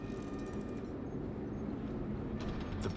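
A crane mechanism set off by a pressure plate in Beyond a Steel Sky, a steady faint mechanical whir with rhythmic ratcheting clicks and a low hum, heard alone.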